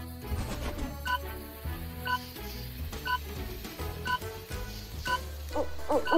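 An owl hoots several times against a bed of steady background music, the calls standing out as short repeated tones that grow louder and closer together toward the end.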